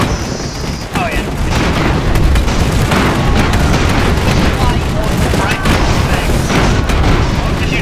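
Airship cannon fire in the strategy game Airships: Conquer the Skies lands as a dense, loud run of booming shots and impacts that overlap almost without pause.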